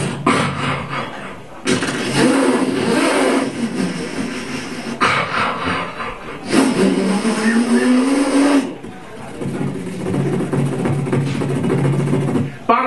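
A comedian vocally imitates a car engine revving on stage at Charley O's, with loud sustained rising and falling engine-like bursts in several surges, interrupted by brief pauses.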